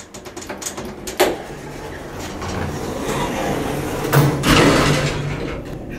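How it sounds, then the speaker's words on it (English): An Otis hydraulic elevator door with a Lexan cab and orange-painted metal bumper slides along and shuts with a thud inside the small cab at The Breakers Resort. "I love the sound of the door slam."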